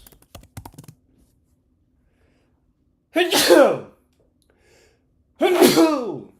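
Two sharp sneezes, a couple of seconds apart, follow a few quick taps of keyboard typing in an otherwise quiet room.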